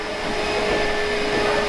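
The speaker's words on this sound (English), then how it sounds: "Nereus has got the Hoover on, so you can hear." A Hoover vacuum cleaner runs in a nearby room, heard from a smoking area as a steady, even droning whine with no voices over it.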